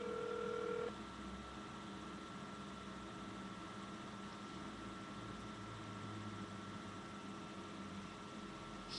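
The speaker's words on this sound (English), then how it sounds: "You have to dial the person first." A single telephone keypad dialing tone sounds at the start, steady and clear for under a second, followed by quiet background hum.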